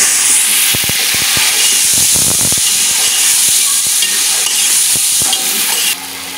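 Potatoes frying in hot oil with garam masala and nutmeg-mace powder for aloo matar pulao, a loud, dense sizzle close up, broken by knocks and stirring clatter, easing slightly near the end.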